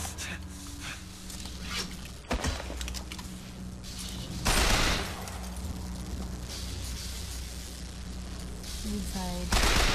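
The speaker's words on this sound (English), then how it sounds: "I feel like I'm hearing more gunshots" Gunfire from the video game Bioshock Infinite: a few sharp bursts stand out amid a dense, noisy game soundscape with a steady low hum, some shots louder and nearer than others.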